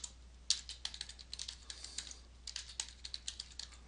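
Quick, light keystrokes on a computer keyboard as a password is entered, a steady close patter of individual taps with one sharper press near the start.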